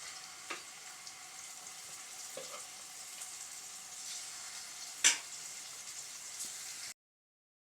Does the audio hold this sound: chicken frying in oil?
yes